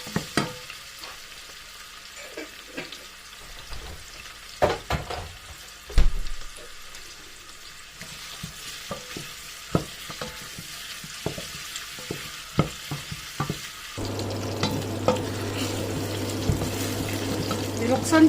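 Garlic sizzling in a home kitchen pan while a spoon scrapes and stirs in irregular clacks, with a low steady hum, like an exhaust fan, joining partway through.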